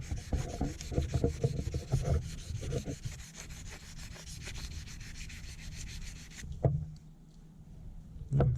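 A boat window being hand sanded with 600 grit sandpaper: close, steady rasping strokes in a quick rhythm that stop near the end, leaving quieter rubbing.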